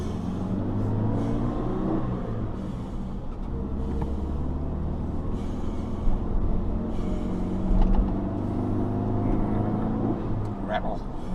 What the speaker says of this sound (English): Traffic everywhere.